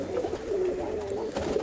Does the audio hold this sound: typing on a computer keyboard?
no